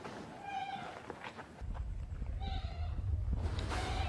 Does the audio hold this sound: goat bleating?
yes